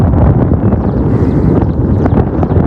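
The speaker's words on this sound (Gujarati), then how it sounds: "ડુંગરા ઉપર બનાવીને ખાવાની મજા આવે પવનમાં હે ઠંડો પવન તો મસ્ત" Cold wind blows across an open hilltop, buffeting the microphone in a loud, continuous roar with uneven gusts throughout.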